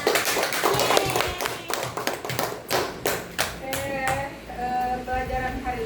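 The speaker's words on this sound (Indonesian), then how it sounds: "Oke, tepuk tangan." Hand clapping by a small classroom group, a rapid run of distinct claps in the first half that thins out, followed by a voice speaking.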